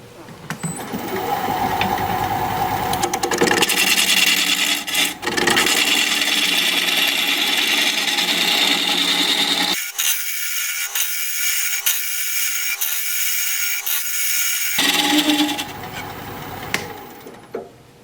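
A wood lathe spins a wooden bowl blank while a 1/2 inch tool rough-cuts it, giving a loud, continuous grinding and scraping drone. Its tone shifts and dips as the cut changes, with a near-steady hum throughout and no talking.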